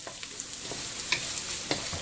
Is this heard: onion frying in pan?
yes